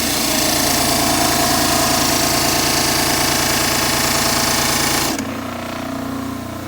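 An orthodontic plaster model is ground on a model trimmer, giving a loud, steady, close mechanical whir and grind for about five seconds before it drops to a softer running hum.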